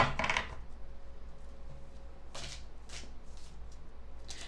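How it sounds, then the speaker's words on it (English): Tarot cards being shuffled, a quick riffle burst at the start followed by several softer flicking and sliding passes, close and fairly quiet with no talk. "I'm going to do one more shuffle."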